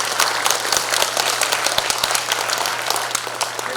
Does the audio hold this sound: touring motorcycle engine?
no